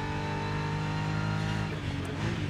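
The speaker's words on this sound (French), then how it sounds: "Son de la voiture, passage de rapport." Simulated race car engine from the racing game Rennsport on the Monza circuit, a steady loud drone with a gear shift change near the end, heard alone.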